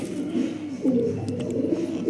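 Pigeons coo in a loft housing several breeding pairs, including pink-toned birds; low, rolling coos repeat steadily throughout, close and fairly loud with no talk.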